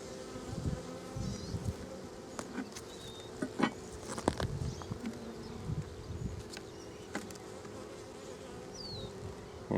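Honeybees buzz steadily around an open hive close by, a soft continuous hum with scattered taps and rustles, no voices.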